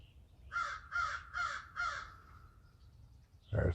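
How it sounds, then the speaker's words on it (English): A crow caws four times in a steady, evenly spaced series at moderate distance, followed by a quieter trailing call and a short burst of noise at the end. "There's Mr. Crow."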